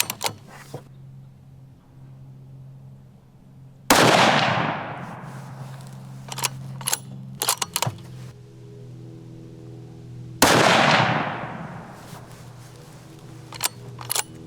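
An Ultradyne 6.5 Creedmoor precision rifle firing polymer-tipped rounds: two loud, sharp shots about six seconds apart, each with a long ringing decay, plus light mechanical clicks between them and no talking.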